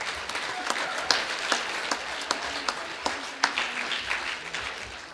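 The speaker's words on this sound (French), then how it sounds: "c'est vrai qu'on peut les applaudir" An audience at a Christmas show applauds for about five seconds, a scattered, moderately quiet clatter of clapping hands with individual sharp claps standing out.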